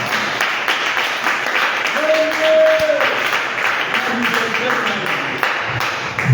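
A church congregation at the Branham Tabernacle applauding steadily throughout, a continuous wash of clapping under a preacher's voice.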